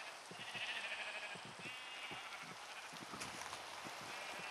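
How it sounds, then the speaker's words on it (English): Sheep in the video game Minecraft bleat repeatedly among a fenced flock on hills, with overlapping faint bleats over soft rain-like background noise and no speech. "And here we've collected some sheep."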